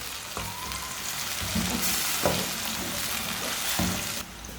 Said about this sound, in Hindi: गुड़ को ना चम्मच चलाते हुए मिक्स करना, इसे छोड़ना नहीं।